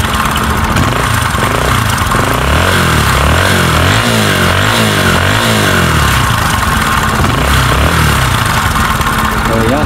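A Bajaj motorcycle engine idles loudly with a rough, uneven putter and occasional small revs, while people talk over it throughout.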